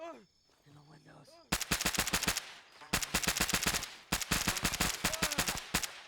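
Rapid automatic gunfire in a military game, loud close bursts fired at building windows in three sustained strings separated by short pauses, with a voice speaking briefly before the shooting starts.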